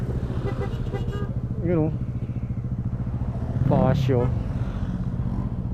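A group of motorcycles riding past, steady engine drone throughout with two rising whines as bikes pass close by, and people talking over them.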